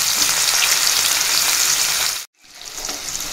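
Cut green chillies fry in hot oil, a dense, loud, continuous sizzle close up that cuts out for a split second and then returns at slightly lower volume.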